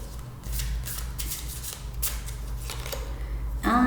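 Tarot cards being shuffled during a Pisces reading, a series of quick riffling, flicking bursts close by, each a short papery rush, with a low steady hum underneath and no talk.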